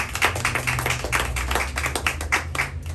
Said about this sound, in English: So a round of applause for Cheyenne, please